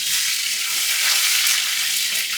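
Coconut pieces and curry leaves sizzle loudly in hot oil in a pan for a Kerala-style masala, a steady close crackling hiss with no talking.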